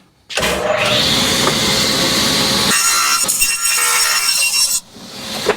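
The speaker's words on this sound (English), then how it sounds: "Set the fence, safety goggles on, and run 4 of these cuts." Table saw ripping wood for a DIY kayak crate, a loud steady whine starting abruptly, with the blade's tone dropping partway through the cut before spinning down after about four and a half seconds.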